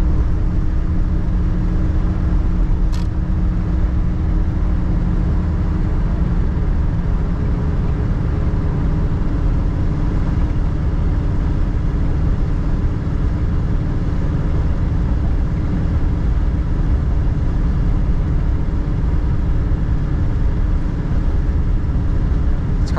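A 1950 Ford Coupe cruising on the road, with a steady low engine and exhaust rumble from the rear and faint road noise throughout, continuous and fairly loud without talk.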